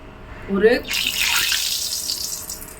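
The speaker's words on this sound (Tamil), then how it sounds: "ஒரு கடாய் வச்சு எண்ணெய் ஊற்றி வச்சுருக்கேன். எண்ணெய் காஞ்சிருச்சு. இப்போ வடையை போட்டுறேன் பாருங்கள்." Vada batter drops into hot oil in a kadai and sizzles into a steady, fairly loud frying hiss that lasts to the end, after a brief voice at the start.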